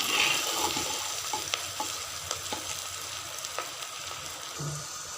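Spice paste of four pounded ingredients, garlic and ginger among them, frying and being stirred in a pan for a bitter gourd and onion curry; a steady close sizzle with scraping stir strokes throughout, no talking.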